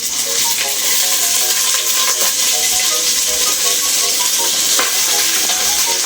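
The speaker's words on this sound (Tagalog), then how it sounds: "Ngayon ilalagay natin itong pork natin ay baboy." Pork sizzles loudly in a hot pan with lemongrass while being stirred, for Ilonggo-style nilagang baboy, a steady bright frying hiss with scattered utensil clinks throughout, no talking.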